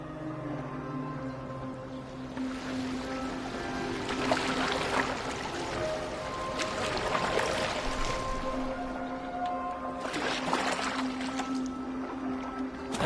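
A boat moves across the water in Assassin's Creed Valhalla. Soft swells of splashing and lapping come in waves over a steady low hum, with no speech.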